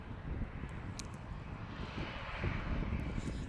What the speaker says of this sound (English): Apparently they're sending out a Jetstar